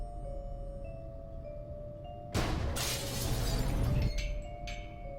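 Glass panel above a lab door shattering in the Cthulhu adventure video game Gibbous: a sudden loud crash bursts out of a quiet ambient hum and is followed by tinkling shards settling and a few small bright clinks.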